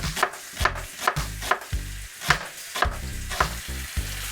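Onion and food fry in olive oil in a pan, giving a steady close sizzle. Rhythmic scraping from stirring repeats roughly every half second, and nobody speaks.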